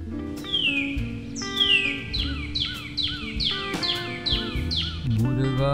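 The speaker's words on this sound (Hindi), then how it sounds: "चिड़िया कैसे चहकती है चू चू चू चू" A small bird chirps in a quick run of bright, downward-sweeping tweets, close and clear, with soft sustained musical tones underneath.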